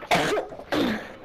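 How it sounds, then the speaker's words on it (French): Two harsh coughs, close and loud, separated by a short pause. "Putain, l'autre il tousse là"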